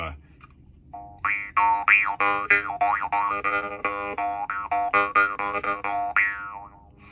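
A series of twangy, boinging metallic plucks from a stiff, poor-quality steel reed for a bass harp, wavering in pitch, repeated many times in quick succession, close and fairly loud.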